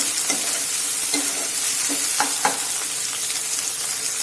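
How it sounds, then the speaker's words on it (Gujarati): Chopped tomatoes cook in a pan for a healthy rice-free khichdi, giving a loud, close, steady sizzle with scattered crackles and pops and no voices. "હવે ટામેટા પણ આપણા થોડા સોફ્ટ થાય ત્યાં સુધી તેને થવા દઈશું"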